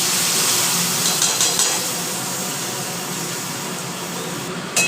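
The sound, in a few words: panch phoron, dried chilli, cardamom, cinnamon sizzling in hot oil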